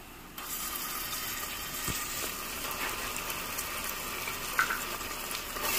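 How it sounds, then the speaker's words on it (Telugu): Onions and ginger-garlic paste frying for a mutton curry give a steady, close sizzle throughout, broadband and even, with a faint stir or clink near the middle and no talking. "ఇది పచ్చి స్మెల్ పోయేంత వరకు వేయించాలి"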